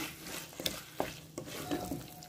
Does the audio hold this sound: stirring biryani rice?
yes